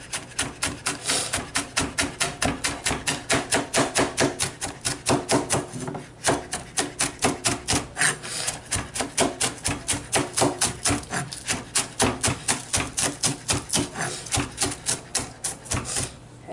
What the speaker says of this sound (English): And now I'm going to be chopping my scallion.